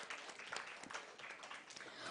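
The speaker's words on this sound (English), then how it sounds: "a big round of applause again for all our partners for their support today" Applause at a Women in Sales event, a quiet, steady patter of many hands clapping heard from a distance without a clear end.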